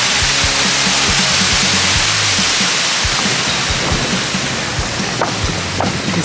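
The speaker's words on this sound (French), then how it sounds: "Là on passe sous la petite cascade derrière le green du 18." Small waterfall behind the 18th green of a golf course, a loud, constant rushing roar of falling water heard up close, with faint low sounds beneath.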